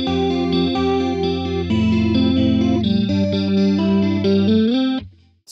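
Electric guitar played through a booster pedal for a lo-fi tone: a steady run of bright, chorus-tinged picked notes with slight grit, loud and close, ending abruptly near the end.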